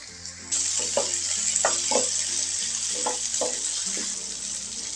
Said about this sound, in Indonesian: Kita tumis dengan sedikit minyak sampai layu